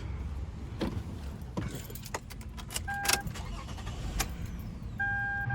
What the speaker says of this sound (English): it cranked over and it tried to start, but it died